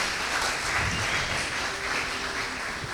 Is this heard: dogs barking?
no